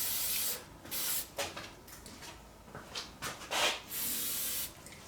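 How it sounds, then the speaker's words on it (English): Loctite 7471 activator sprayed onto a bicycle bottom bracket shell, a series of short hissing aerosol bursts of varying length, close and fairly loud, with quiet handling gaps in between. "Now we're going to spray it with some activator."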